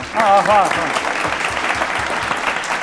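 An audience applauds at a New Year comedy special. The clapping is a dense, steady wash that carries on under and after a brief voice at the start.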